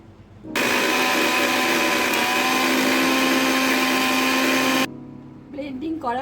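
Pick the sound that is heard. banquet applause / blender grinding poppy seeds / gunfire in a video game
blender grinding poppy seeds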